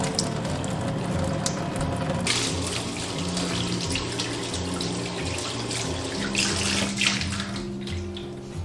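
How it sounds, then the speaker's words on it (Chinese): Tap water runs steadily over raw half chicken being rinsed in a sink, a continuous close splashing stream with no talk. "首先把它清洗干净，这里面的这些血块一定要给它清洗掉"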